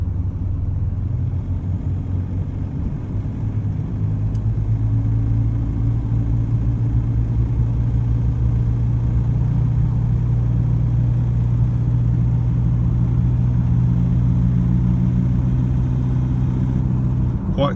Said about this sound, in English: Quite clattery till it hits about 1900 revs and it just cuts off